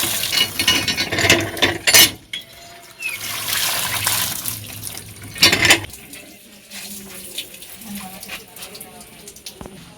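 Ripe mangoes freshly gathered from an orchard are rinsed under running water, with splashing and clinking in bursts over the first six seconds, then quieter handling; a voice speaks over it.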